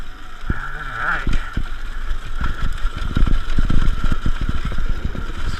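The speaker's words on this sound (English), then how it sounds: "It's pretty crazy how quiet some of these bikes have become." A Sur Ron Light Bee electric dirt bike with dual crown forks riding a trail: quiet motor whine under bumpy knocks and rattles of the bike over rough ground, close and continuous.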